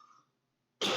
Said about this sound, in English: I'll probably cough a lot